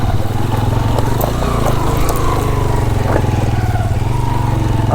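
A motorcycle engine labours up a rough mountain road with stones and water crossings on the Lowari Top route to Chitral, a loud, steady low drone close by with rattles and surges throughout.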